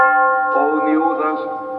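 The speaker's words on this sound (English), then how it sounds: "not only the prayers and church bells, but some strange Easter fireworks could be heard" Church bells ring out on Holy Friday in a Greek town near Arachova, a sustained, resonant peal that swells and overlaps steadily throughout, with a faint murmur of voices or chanting mixed beneath.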